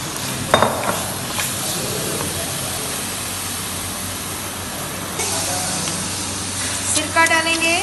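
Chicken returned to a pan with garlic and ginger for chicken Manchurian, frying with a steady broad sizzle and hiss, occasional clinks and stirring, close and continuous throughout.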